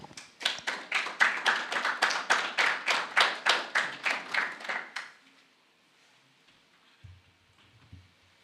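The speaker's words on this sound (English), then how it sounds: "Let's welcome her with a round of applause." An audience gives a lecture speaker a round of applause, a dense burst of clapping that pulses steadily for about five seconds and then stops, followed by near quiet and faint movement.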